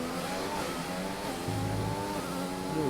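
A race car engine in a racing video game revs hard through shifting gears, its pitch climbing and dropping in steady sweeps, loud and continuous with no talk.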